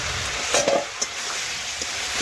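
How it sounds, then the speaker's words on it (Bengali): Chicken with bay leaves and green chillies being stirred and sautéed in a pan in a home kitchen, a steady soft sizzle with a few scraping clicks of the spoon against the pan, no talking. "এইভাবে নাড়াচাড়া করে সমস্ত কিছু আবার একটু কষিয়ে নিচ্ছি চিকেনটা একটু ভালোভাবে কষাতে হবে"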